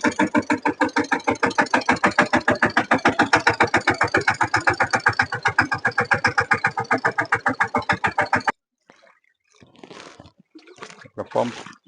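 A tractor engine on a farm, used with a spray pump, chugs loudly in a steady fast rhythm, then cuts off, leaving faint clatter and scattered sounds.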